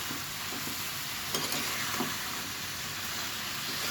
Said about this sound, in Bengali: ঢাকনা সরিয়ে দিয়েছি এখন কষিয়ে নিচ্ছি